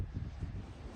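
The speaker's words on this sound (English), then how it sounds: "The wind is still pretty fierce." Strong, fierce desert windstorm gusts in the West Texas badlands of Big Bend, a continuous low rumbling buffet against the microphone that surges and eases for the full second, close and steady with no voices.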